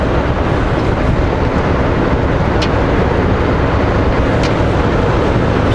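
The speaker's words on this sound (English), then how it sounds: "Train." A train rumbles by in snowy weather, a loud, dense, continuous roar that stays steady throughout, with a couple of brief sharp high ticks.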